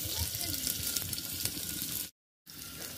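Onions and fenugreek seeds sizzling in hot oil in a home kitchen, a steady close crackle that cuts out briefly before resuming.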